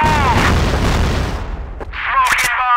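A grenade blast in a Counter-Strike style shooter on the Factory map, a loud booming burst filling the first half with rumbling low end, followed by sharper pops and crackling bursts near the end, with voices talking over it.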